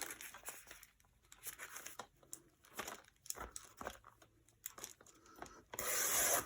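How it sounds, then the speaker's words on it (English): Scissors or a cutter working through several stacked fabric layers for a handmade junk journal, giving soft crinkling, rubbing snips at close range, ending in a louder, denser tearing burst. "Let's see if I can cut through all this at one time."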